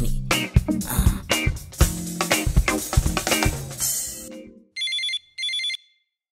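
A phone ringtone plays loudly as a melodic tune for over four seconds, followed by two short electronic ringing bursts, with no talking over it.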